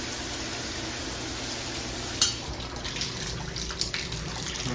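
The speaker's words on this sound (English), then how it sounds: "the pressure's really good, the shower's pretty good" Shower running with good water pressure in a hotel room bathroom at the Hungry Trout Resort in Lake Placid, a steady faint spray with one sharp clink, quiet and unbroken.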